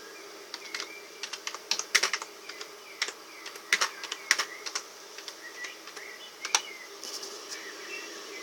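Typing on a computer keyboard, close and clear, with irregular bursts of key clicks and a few sharper taps spread across the stretch, no voice over it.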